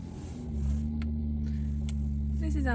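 A Commer van stuck in soft ground revs with a steady, loud low engine drone that rises and holds, and a whining note climbs near the end as the engine works harder.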